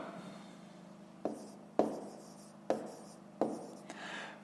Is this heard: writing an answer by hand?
yes